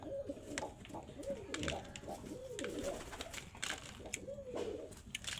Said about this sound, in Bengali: ও আমার খুব প্রিয় কবুতর